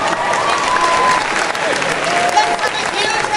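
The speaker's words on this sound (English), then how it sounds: "have a huge round of applause for our guests" A convention crowd at an anime expo panel applauds its guests in a loud, dense burst of clapping with some cheering, continuing steadily across the whole stretch.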